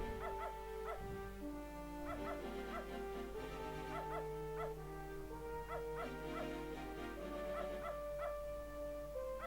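In the video game Beneath a Steel Sky, a dog that has fallen into a pit whimpers and yips repeatedly over steady background music, its high plaintive cries coming in short bursts throughout.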